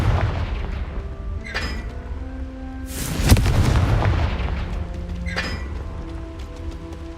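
A Confringo blasting spell explodes in Hogwarts Legacy amid a magic duel, a loud booming blast midway with a rumbling tail, surrounded by crackling spell effects and whooshes, with no talking.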